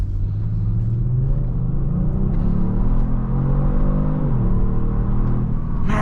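A 2022 Kia Stinger GT2 with a 3.3-litre twin-turbo V6 accelerates hard. A deep, loud rumble from inside the car rises steadily in pitch through the gears, with a brief dip at a shift and no talking.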